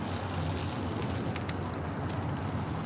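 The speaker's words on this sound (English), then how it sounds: "Man, the rain, man." Steady rain falls outdoors, a constant broadband hiss with no breaks and no voices.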